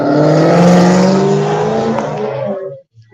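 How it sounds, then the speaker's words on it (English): A loud car exhaust roars close by as the engine revs hard for a few seconds, then cuts off abruptly, leaving a short rumble. "Pretty much anytime you hear a loud exhaust like that"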